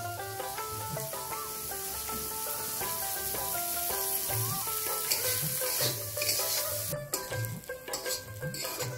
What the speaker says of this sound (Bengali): পাতাটাতে অল্প করে দিয়ে দিব সরষের তেল দিয়ে ভেজে নিব